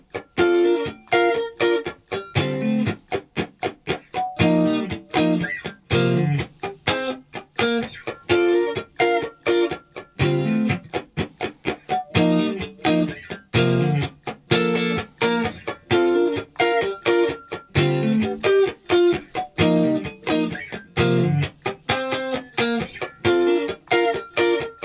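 A guitar plays short, choppy, muted funk phrases from the verse of a song in a steady rhythm, slightly slower than the record, heard clearly and alone.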